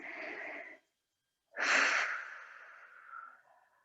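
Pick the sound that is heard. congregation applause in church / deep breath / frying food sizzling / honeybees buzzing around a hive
deep breath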